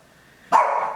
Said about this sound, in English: they're hearing a dog outside.